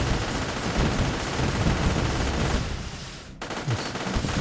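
An artillery tower in the game M.A.C.E. Tower Defense fires constantly, a dense barrage of booming shots and explosions that dips briefly and cuts out for an instant before resuming, with no talk.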